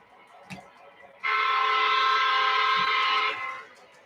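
A large model train locomotive on a home layout sounds a long, steady horn blast of about two seconds, loud and close, after a brief clunk.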